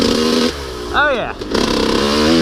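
A 125cc dirt bike rides through muddy ponds, its engine buzzing loud and close, then rising in a sharp rev before dropping and settling back into a steady drone, with a voice over it.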